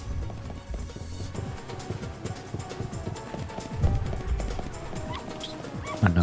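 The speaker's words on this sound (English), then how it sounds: "Another dog." Barking dog in the video game Lightning Returns: Final Fantasy XIII, soft scattered yips and barks under busy game music and footsteps, fairly quiet throughout.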